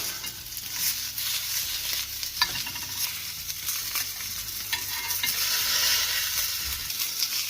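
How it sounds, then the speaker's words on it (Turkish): Ćevapčići meatballs fry in a pan with a steady, close sizzle and crackle and a few soft stirring scrapes, with no talking. "Sabahın 7'sinde manyak gibi köfte kızart."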